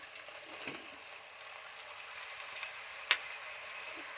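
Tomatoes hit a pan of frying ginger-garlic paste for a chicken gravy curry, giving a low, steady sizzle with faint crackles and one sharp tick midway, no voices.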